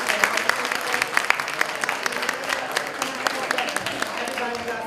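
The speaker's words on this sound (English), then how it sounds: "So everybody, can we get a round of applause?" A round of applause from the audience at a live-streamed entrepreneurship panel, a dense, continuous rattle of many hands clapping, fairly distant, with voices murmuring underneath.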